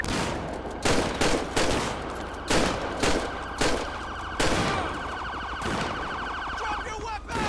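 Shotgun blasts ring out in a police video game bodycam scene, several sharp loud reports spaced irregularly across the clip over a steady siren-like wail in the background.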